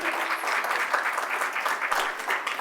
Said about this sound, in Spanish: déjame darle un aplauso al Señor